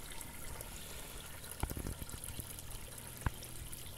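Water from a 0.5 HP artesian well pump pours steadily into a container, a continuous low rushing trickle with a couple of brief knocks partway through, no voices.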